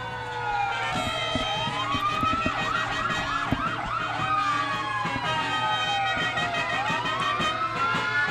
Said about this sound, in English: it's a shame that we have all the sirens there